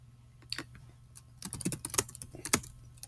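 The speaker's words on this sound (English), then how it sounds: "I'm going to type this for emphasis sake." Fingers type on a computer keyboard in quick, uneven bursts of crisp key clicks, up close and alone, with a short pause before a faster flurry of keystrokes.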